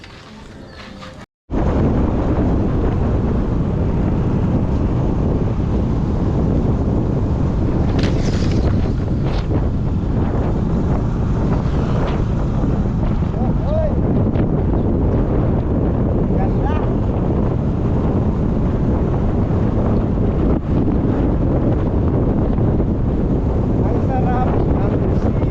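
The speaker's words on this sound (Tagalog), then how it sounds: "Ang presko ng hangin." Strong wind buffets the microphone outdoors in the countryside, a steady loud roar after a brief quiet start, with faint voices buried underneath.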